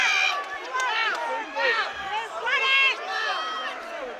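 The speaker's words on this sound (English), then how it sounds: "The crowd are going absolutely bonkers here." Frenzied cheering from a live MMA event crowd at UCMMA 54, a loud wall of overlapping yells and shouts rising in repeated surges without pause.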